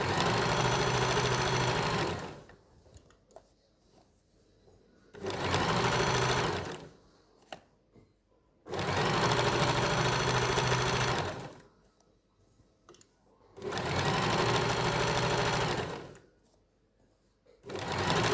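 A sewing machine stitches along the folded edge of pyjama fabric in four loud, steady whirring runs of a few seconds each. Short quiet pauses with faint handling noises separate the runs.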